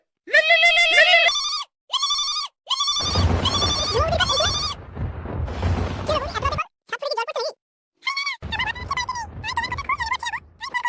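A telephone rings late at night in repeated short trilling bursts, loud and close, alternating with a voice talking and some background noise.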